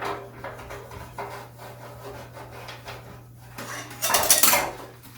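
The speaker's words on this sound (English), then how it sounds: "using a harder wooden spoon, we're going to press down and take all the color out off the bottom of the pan" A hard wooden spoon scrapes and rubs against the bottom of a pan where beef tenderloin was roasted, a rasping, repeated scratch close by that turns louder and more vigorous toward the end, with no talking.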